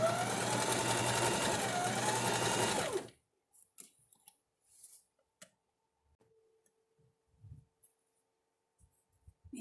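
A sewing machine stitches fabric loudly and steadily for about three seconds, then stops, leaving only faint scattered clicks and handling noises in near silence.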